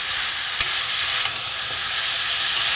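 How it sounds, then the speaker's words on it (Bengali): Spices sautéing in a pan for a vegetarian banana flower curry, giving a steady broadband sizzle and hiss with a few light stirring clicks, close and alone with no talk. "একটু কষিয়ে নেবো ভালো করে।"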